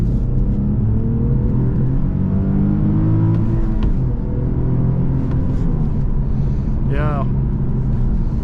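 A 2008 Infiniti G37 coupe with a 3.7-liter V6 and six-speed manual accelerates through the gears, its engine a steady rumbling drone with rising and falling pitch under a voice talking nearby.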